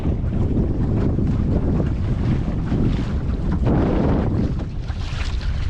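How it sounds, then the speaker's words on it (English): Strong, steady wind rushes and buffets the microphone aboard a lugger sailing on a lake, with water slapping and hissing along the hull as a gust builds; loud and continuous, with no talk. "there's a gust and we're picking up the wind again"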